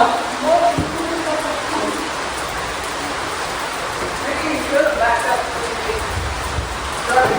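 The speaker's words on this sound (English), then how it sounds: "It's raining in the bunk room." Steady rain pours down and drips into an open bunk room at a farm, a continuous broadband hiss with a few brief voices and small knocks faintly in the background.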